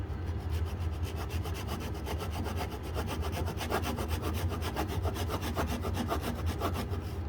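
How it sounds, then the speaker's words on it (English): A hand pull saw cuts through wood in a tight spot during RV slide repair, giving a steady, close run of rapid rasping strokes that continues without pause the whole way through. "Let me show you this cool tool. It's called a pull saw."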